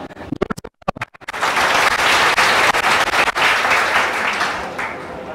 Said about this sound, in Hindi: आओ जोरदार ताली हो जाए इस बच्चे के लिए